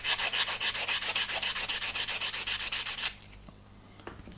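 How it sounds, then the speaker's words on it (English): A 220 grit sanding sponge rubbed hard along a heavy seam on a plastic model kit part, about eighteen quick, even back-and-forth strokes up close, then the scraping stops and only faint handling noises follow. "So I've got a 220 grit here"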